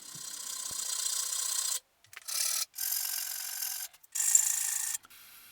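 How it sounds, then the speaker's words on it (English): Dry, raspy rubbing of a sanding stick on wood in several steady bursts separated by brief pauses, close and fairly quiet with no voices. "I then finish off the sanding with a sanding stick."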